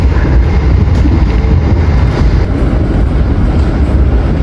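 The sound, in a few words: Argo Mendoan passenger train running on the rails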